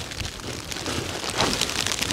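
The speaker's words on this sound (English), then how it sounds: "And we got sleet falling on us right now." Sleet and a little hail patter steadily in the Alaskan mountains, a dense granular hiss with scattered ticks of ice hitting nearby surfaces, mixed with cold wind, continuous and fairly loud with no voices.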